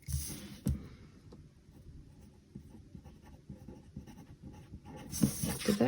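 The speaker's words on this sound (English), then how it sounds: "And then I'll write it down." Pen scratching across paper in a reading journal, close and quiet, with steady short strokes and small pauses, a louder rustle near the start and end.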